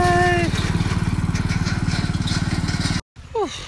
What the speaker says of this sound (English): Now Stephen chundering along with the tractor mower.